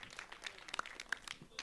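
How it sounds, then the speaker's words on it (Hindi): Scattered clapping from an audience at a trailer launch event for a Bollywood film, short and fairly faint with uneven individual claps rather than a full roar. "एक बार मेरे लिए तालियां बहुत सारी"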